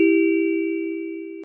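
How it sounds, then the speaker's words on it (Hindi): A single sustained ding of a house doorbell, a steady bright tone holding for over a second and slowly fading, clear and alone with no talk. "घर की घंटी बज।"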